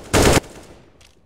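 A single loud gunshot in Counter-Strike: Global Offensive, one sharp close blast followed by a fading tail and a faint later click.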